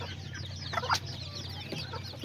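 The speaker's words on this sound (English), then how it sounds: "I have this little chicken right here too with baby chicks" An Azteca hen with about four baby chicks clucks softly, with high, rapid peeping from the chicks layered over her steady low farmyard murmuring.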